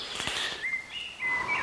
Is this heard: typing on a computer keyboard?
no